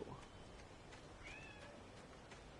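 A pet cat gives a faint, brief meow in a quiet room, a single soft call at some distance with no talking.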